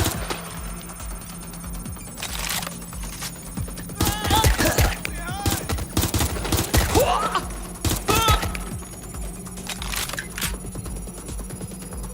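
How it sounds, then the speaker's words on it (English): Gunfire in the video game Watch Dogs Legion: sharp bursts of shots crackle in clusters through the middle, over a steady hum, with voices speaking around them. "They're shooting at us."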